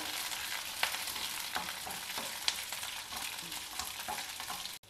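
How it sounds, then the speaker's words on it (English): Green chillies, a mix of spicy and milder ones, frying lightly in oil make a continuous hissing sizzle with a few sharp pops and crackles, close by and fairly quiet, ending abruptly. "Lightly fry them also in the oil"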